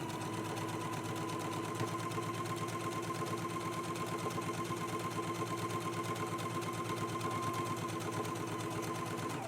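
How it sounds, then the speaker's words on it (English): A sewing machine runs steadily, top stitching along the yoke of a dress, its fast, even mechanical whir continuing unbroken at moderate volume with no voices. "let's go ahead and do top stitching right along the yoke"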